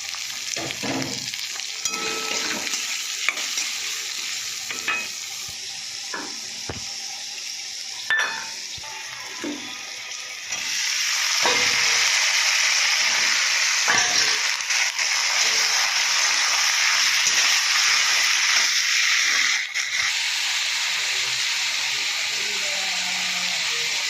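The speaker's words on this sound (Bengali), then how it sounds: "এবার এই যে রসুন আর পেঁয়াজটা দিয়ে দেবো।" Garlic and onion dropped into a hot pan, a frying hiss that grows noticeably louder midway and continues steadily, with stirring clinks and scrapes earlier on, close by and without talk.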